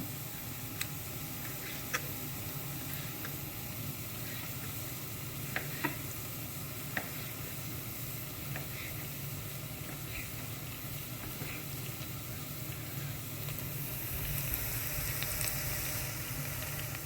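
Vegetables sizzle steadily in a hot pan for a tomato seafood soup, with a constant close frying hiss and a few sharp clicks of stirring throughout.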